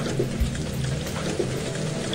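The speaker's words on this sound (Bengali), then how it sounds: "শিলা বৃষ্টি শুরু হয়েছে, দেখো" Dense hail and rain pelt down steadily during a Kalbaishakhi storm, a continuous broadband patter with a few louder impacts and a faint low rumble underneath.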